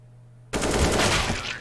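AK-47 rifle fire in a Counter-Strike match, starting abruptly after a brief quiet hum as a rapid automatic burst that continues loud and dense to the end.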